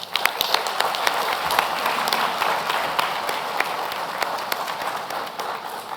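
Graduands at a 2022 Kent Institute graduation ceremony in Sydney are honoured with sustained applause from a large audience, dense, even clapping filling the hall without letup.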